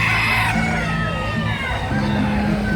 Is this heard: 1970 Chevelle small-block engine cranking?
no